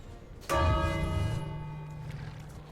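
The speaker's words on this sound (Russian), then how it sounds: "В колокол звоним." A single struck bell in the King's Quest video game rings out sharply, its deep metallic tone with layered overtones slowly decaying.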